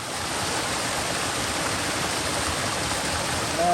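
Cold mountain spring water rushes steadily and close by, a dense unbroken hiss and splash with no talking over it.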